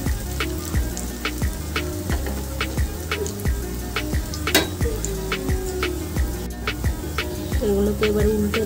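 Poppy seed fritters with chopped onion fry steadily in hot oil in a pan, a continuous close sizzle broken by repeated soft clicks and taps of a utensil, with no talking.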